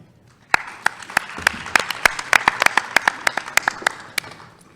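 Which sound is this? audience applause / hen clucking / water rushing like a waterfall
audience applause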